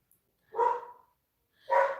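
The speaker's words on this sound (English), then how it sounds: "Excuse my dog's barking." A dog barks twice indoors, two loud close barks about a second apart in a quiet craft room where hair bows are being glued.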